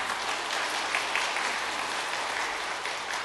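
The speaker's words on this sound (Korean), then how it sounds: "우리 박수로 환영하겠습니다." A church congregation claps steadily to welcome new members during a Sunday Easter worship service, an even, dense patter of many hands filling the room without break.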